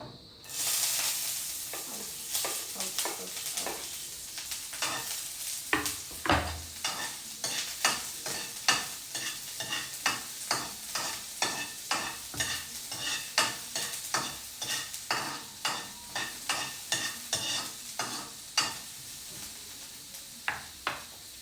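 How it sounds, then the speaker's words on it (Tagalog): Tomato, onion, salted egg and eggplant sizzling in a pan, with a steady frying hiss and repeated close scraping stirs of a utensil against the pan throughout. "Ginisa ko lang po yung kamatis at sibuyas, tapos yung itlog na pula, at yung konting talong"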